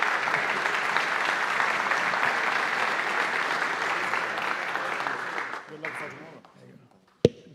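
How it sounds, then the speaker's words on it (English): Steady applause from the audience at a FIBA Champions League award ceremony, a dense crowd of clapping held for about five seconds before thinning out, followed by a single sharp clap or knock near the end. "A round of applause, please."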